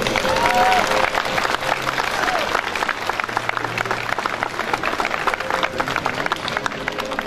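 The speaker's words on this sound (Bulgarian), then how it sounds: "Още веднъж силни аплодисменти за геройски загиналите." Sustained applause from a crowd at a Third of March commemoration in Petrich, Bulgaria, honouring fallen heroes; dense, loud clapping continues throughout with faint voices beneath.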